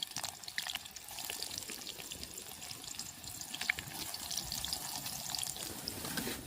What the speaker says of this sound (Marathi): तेल तापलंय आता. आता कांदा टाकून घेते. कांदा आणि मिरची टाकते लगेच.